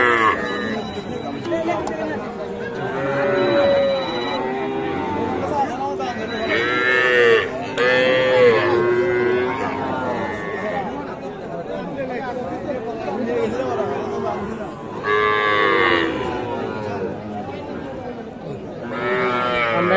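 Calves moo and bawl repeatedly at the Ambari cattle market, some near and some farther off, over the steady chatter of many people talking.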